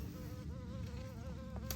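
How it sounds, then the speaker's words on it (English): A bumblebee buzzes steadily near flowers outdoors, a continuous droning hum under faint background noise. "There's a little bumblebee right there doing his thing."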